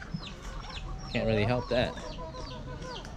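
Chickens cluck near a macadamia nut tree, their calls short and close, with a louder burst of squawking in the middle. People talk quietly over them.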